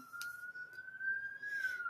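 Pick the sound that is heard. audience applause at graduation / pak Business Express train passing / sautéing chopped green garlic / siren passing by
siren passing by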